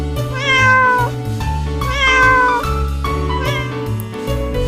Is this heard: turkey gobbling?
no